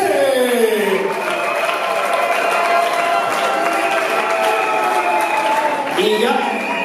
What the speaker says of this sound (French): je voulais vous demander encore d'applaudir par monsieur Matispo